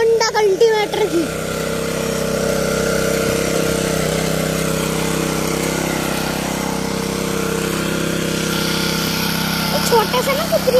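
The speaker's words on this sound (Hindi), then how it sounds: "क्या शानदार आवाज क्या होंडा कल्टीवेटर की" A Honda petrol cultivator engine runs at steady idle close by, a continuous buzzing drone with a constant low hum, while someone talks over it at the start and end.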